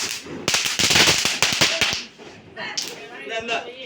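Firecrackers burst during Diwali, a quick volley of sharp loud cracks and pops up close, then scattered fainter bangs as people talk nearby.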